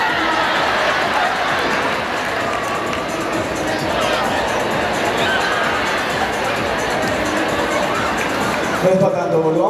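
Audience applause and crowd noise in an arena during a dog show starring Gordo, a Hollywood performing dog, with steady, dense clapping and cheering that continues throughout, loud and close, and changes briefly near the end.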